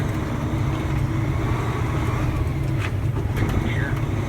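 A semi truck with a 10-speed transmission being shifted without the clutch, its engine a steady loud low drone with no clear breaks between gears, heard from inside the cab.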